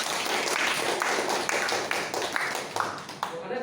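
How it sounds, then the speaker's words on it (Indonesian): A group of seminar participants claps together at the close of a session, steady dense applause with sharper individual claps standing out, sustained throughout, a few voices mixed in underneath. "Mungkin kita untuk sesi ini kita tepuk tangan bersama"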